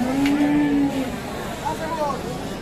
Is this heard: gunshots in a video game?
no